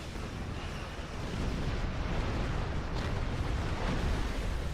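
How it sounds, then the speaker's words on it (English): Viridium cannons fire in a space video game, producing a steady, heavy roar of sustained weapon discharge that grows slightly louder partway through and keeps going to the end. "Yes, I am using Viridium cannons."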